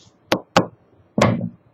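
Knocking on wood for luck: two sharp, close knocks followed after a pause by a heavier, longer rap, heard alone.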